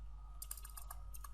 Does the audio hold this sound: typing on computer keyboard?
yes